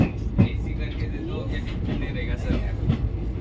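Steady rumble of a moving passenger train carriage with faint rhythmic clatter, voices murmuring under the continuous rolling noise.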